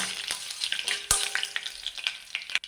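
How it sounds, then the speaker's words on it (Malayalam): Mustard seeds splutter in hot oil alongside dried red chillies for a jackfruit thoran tempering. Sharp, irregular pops and crackles fire close up over a continuous frying hiss. "കടുക് പൊട്ടി വരുന്നുണ്ട്"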